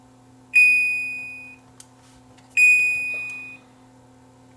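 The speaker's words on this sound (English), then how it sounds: "If it detects there's moisture, it's going to set off a buzzer." A moisture sensor buzzer on an O2 Pure Eco laundry ozone system sounds two loud, steady electronic beeps, each lasting about a second with a short pause between, clear and close with no talking.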